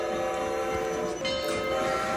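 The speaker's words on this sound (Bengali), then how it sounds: "তারপর যখন ট্রেনের চাকা গড়ালো" A train's wheels begin to roll as it starts to move. A steady, fairly loud rumble with a tonal whine runs continuously throughout, with no voices.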